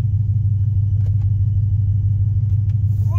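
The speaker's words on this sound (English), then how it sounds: "I'm gonna try not to talk a whole lot so you guys can actually hear the truck and hear the supercharger and hear everything." A Ram pickup with a TorqStorm supercharger rolls along, its engine a steady deep rumble from inside the cab, with a few faint clicks and no speech.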